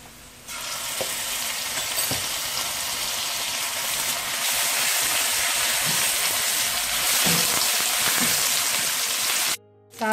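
Ginger garlic paste frying with light-browned onions in a pan, a loud steady sizzle and crackle running nearly throughout with a few stirring scrapes, cutting out briefly near the end.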